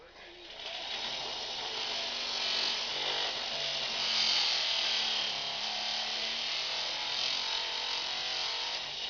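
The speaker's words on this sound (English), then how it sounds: "So this is a sisal polishing mop, coarse, used with a grey coloured polishing compound." A coarse sisal polishing mop loaded with grey compound buffs metal parts for electroplating, giving a continuous whirring, abrasive hiss at steady moderate level, close up.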